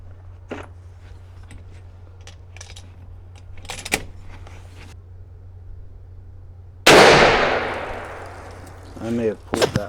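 One loud rifle shot cracks out at a target range and rings off, preceded by small clicks and handling noise and followed by a voice.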